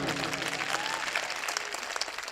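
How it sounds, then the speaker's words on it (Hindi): An audience at a poetry mushaira in Bahadurganj, Kishanganj breaks into applause: dense, sustained clapping from many hands, fairly near and even in loudness throughout. "मैं आपकी समझ में आई हो बात तो आपकी तालियां बजनी चाहिए।"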